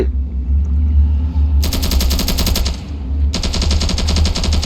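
Rapid machine-gun fire in the game Ravenfield in two long bursts, loud and close, over a low steady rumble, with a short pause between them.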